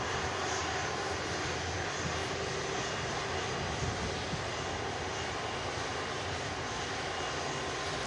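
An Airbus A330 jet taxis past at an airport after a long flight, giving a steady, broad engine roar and whine that holds at an even level throughout.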